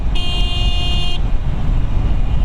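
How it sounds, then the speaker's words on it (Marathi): A single loud car horn blast lasting about a second, over steady engine and road noise on a hill road near Munnar, Kerala. "आम्ही आता असली गाडी दिसली की हॉर्न वाजवतो पहिलं."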